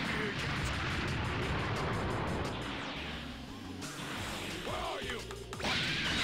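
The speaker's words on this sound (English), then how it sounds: "A big bang attack!" Loud energy blast explosion from Vegeta's Big Bang Attack in the Dragon Ball Raging Blast video game, a dense roaring burst with crashing impacts, mixed with game effects and someone talking.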